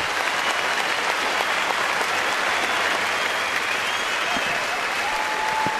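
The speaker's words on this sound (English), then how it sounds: "an appreciative crowd here in Cleveland, well aware of what was going on their feet for Cliff Lee" Baseball stadium crowd in Cleveland stands and applauds a pitcher late in the game, a steady, dense wash of clapping heard from a distance, with faint commentary beneath.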